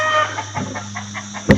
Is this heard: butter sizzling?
no